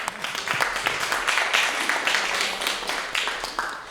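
Audience applause at a high school poetry slam in an arts center, a steady wash of many hands clapping for about four seconds, moderately loud and continuous, with no talking over it.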